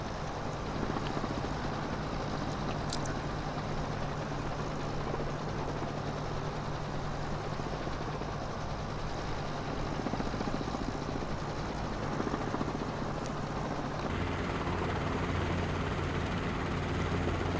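Steady, loud rotor and engine drone from a Robinson R22 helicopter in Microsoft Flight Simulator 2024, holding constant with a dense broadband whoosh and a slight shift in tone near the end.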